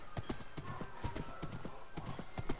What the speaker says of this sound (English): Yes, there's my horse.